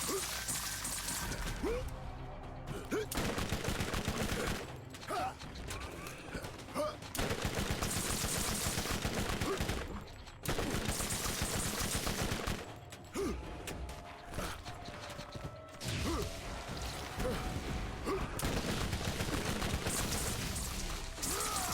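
Shotgun blasts and mechanical clatter from combat in the Borderlands game, loud and sustained with bursts of gunfire, crashes and creaking layered densely throughout, no speech.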